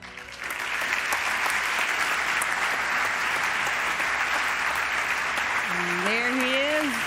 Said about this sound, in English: let's have a big round of applause, please, for this year's Moto3 Rookie of the Year